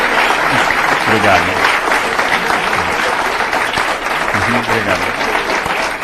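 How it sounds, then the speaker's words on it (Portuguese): Steady, close applause from an audience for a lecturer after a talk on religious conflicts, dense clapping filling the whole stretch while someone says thanks over it. "depois dessa brilhante palestra, nós gostaríamos de aplaudi-lo"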